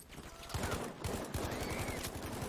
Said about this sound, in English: A lot of explosions coming in.